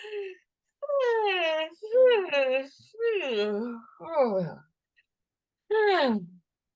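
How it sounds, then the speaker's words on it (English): Group of people yawning along together over a video call, several long drawn-out voiced yawns rising and falling in pitch, separated by short pauses. "So let's try a big yawn."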